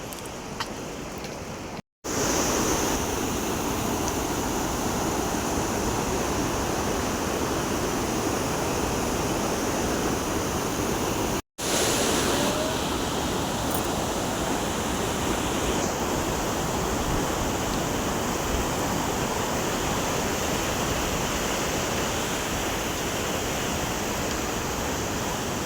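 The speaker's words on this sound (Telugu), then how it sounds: "వాటర్ ఫాల్ కనిపిస్తుంది అక్కడ కింద." A waterfall near Yamunotri on a Himalayan trail gives a loud, steady, broadband roar of rushing water that fills the whole stretch, broken only by two brief cut-outs, with no talk.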